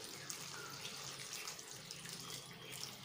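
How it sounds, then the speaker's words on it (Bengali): Hot water pours steadily into a pan of Bengali potato chicken curry, a faint continuous splashing stream with no voices. "আমি কিন্তু এর মধ্যে গরম জল দিচ্ছি"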